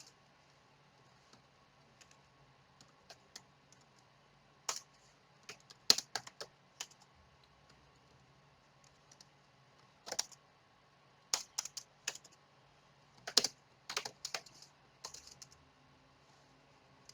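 Code is typed on a computer keyboard in short irregular bursts of quick, crisp key clicks with pauses between, quiet and close in an otherwise silent room.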